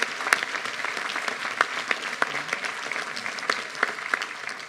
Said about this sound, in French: Je crois qu'on peut les applaudir tous aussi